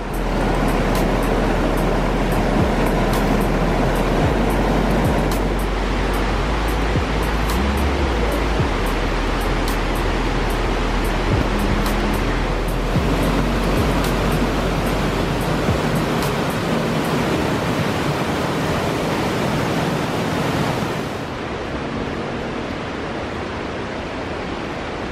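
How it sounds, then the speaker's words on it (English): Meander River rushing loudly through lush forest along a rocky track, a steady, dense roar of flowing water that stays close and constant, with no voices. "Meander River's been really loud"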